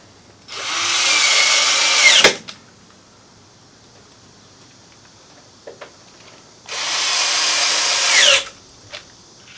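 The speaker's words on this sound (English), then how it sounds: "I just drive in 2 screws" Power drill driving screws into a wooden shelving board in a shop, two separate loud whirring runs of about two seconds each, separated by quiet with faint clicks.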